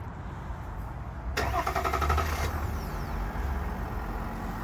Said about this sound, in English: Let's do a little quick cold start.